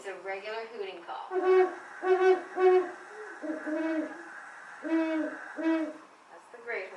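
Deep, low hoots from a great horned owl repeat in short rhythmic series, loud and close, with faint higher bird calls behind.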